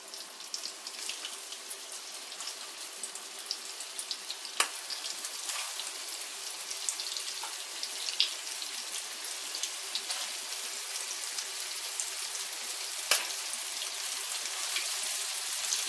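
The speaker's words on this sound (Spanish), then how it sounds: "las vamos a freír en aceite calentico, dorándolas por los dos lados" Potato, cheese and ham patties frying in hot oil in a pan, giving a steady, dense crackling sizzle with scattered pops throughout, close and even in loudness, with no talking.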